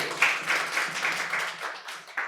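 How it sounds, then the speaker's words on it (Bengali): An audience at a quiz competition at Santiniketan Medical College and Hospital claps steadily for a prize winner, a dense, even patter of many hands with a faint murmur beneath. "ওর জন্য একটা জোরে হাততালি।"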